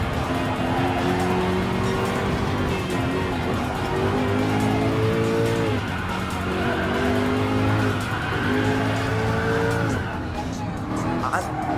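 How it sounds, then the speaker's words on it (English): Sauber Mercedes C9 Group C race car in Gran Turismo Sport, its engine droning loud and steady with pitch sweeping up and down through gear changes, tires squealing through hard turns, with a voice talking over it. "I kind of love that new engine sound for the Sauber Mercedes C9"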